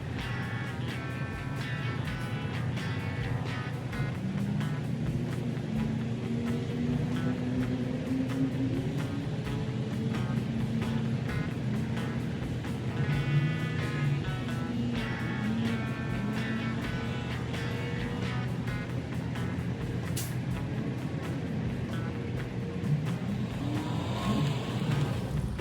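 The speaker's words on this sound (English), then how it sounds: "here I'm approaching with this Chevy Cruze going up the trailer" A Chevy Cruze engine hums and revs steadily at close range for a long stretch, shifting in pitch as the car slowly drives up onto a car hauler trailer; no voices.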